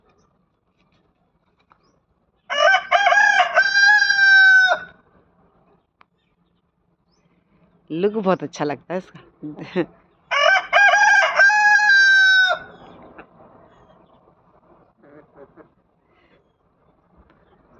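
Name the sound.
rooster crowing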